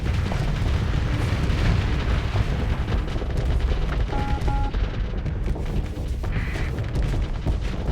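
Heavy support module blowing up during a Starsector space battle: a dense, continuous roar of booming blasts and rapid gunfire-like crackle, loud and sustained throughout with no pause.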